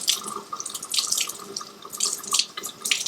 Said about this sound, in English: just turn on a little bit of cool water, and just rinse the outermost layer of the granular sugar and salt off